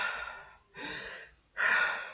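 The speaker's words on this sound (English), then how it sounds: "those are really deep breaths for me" Three deep, breathy inhalations and exhalations drawn through an N95 mask by someone with asthma, each a slow airy rush separated by short pauses, close and alone with no talk.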